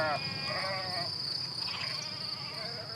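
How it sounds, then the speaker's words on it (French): Blanche du Massif Central sheep bleat in a wavering, quavering call from a short distance, over a steady high insect-like drone that runs throughout. "Les moutons qu'élève Pierre Vidal sont des blancs du Massif central"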